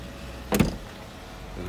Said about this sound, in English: Got our crank windows.